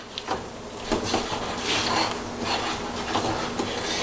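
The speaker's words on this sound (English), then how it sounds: "Take your time, mix your spices in." Spices are stirred in a pan off the heat for a Moroccan meatball tagine, making a continuous scraping and rubbing with light metallic clinks of a spoon on the pan.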